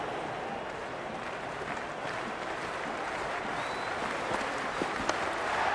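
Cricket stadium crowd during a CSK vs MI match, a dense continuous roar of cheering and applause that holds steady and swells slightly toward the end, distant and wash-like with no clear voices on top.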